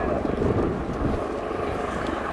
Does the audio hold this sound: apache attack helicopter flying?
yes